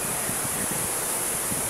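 Broad, steady roaring noise like strong wind buffeting a microphone, continuous and loud with no other clear sounds.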